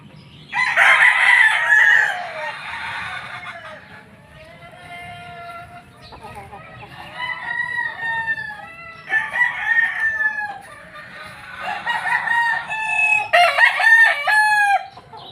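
A broodcock rooster crowing several times in close succession, loud and near, with clucking and other fowl calls between the crows and someone talking softly underneath.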